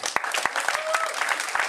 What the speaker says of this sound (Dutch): Nog even een klein applaus voor iedereen.